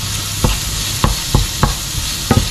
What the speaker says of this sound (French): on va continuer de mélanger et de laisser cuire